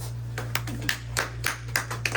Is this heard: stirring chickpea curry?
no